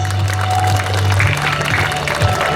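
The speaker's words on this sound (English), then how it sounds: "Everybody, a thundering round of applause" An audience at a school welcome assembly gives a steady round of applause, with a low hum beneath the clapping.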